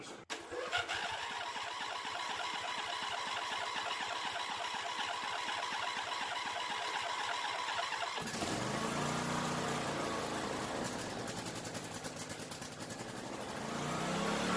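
A Craftsman Twin II lawn mower engine cranks and sputters, then catches and runs steadily at a loud, even idle for several seconds.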